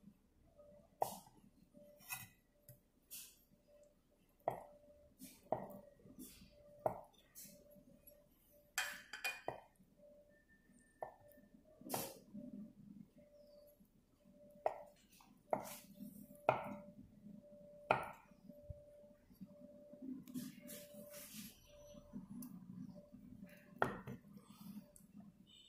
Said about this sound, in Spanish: Así picamos todo el quesito.